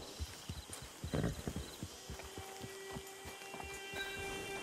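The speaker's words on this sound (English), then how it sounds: "Get your horse." Steady clip-clop of horse hooves on hard ground in Red Dead Online, close and rhythmic, with a faint whinny and a constant background hum and tones.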